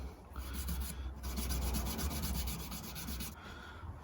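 Scotch-Brite pad or crowning file rubbing back and forth over electric guitar frets to clear marker ink, a steady close abrasive scrubbing that runs almost the whole time with a brief pause near the start, no voices.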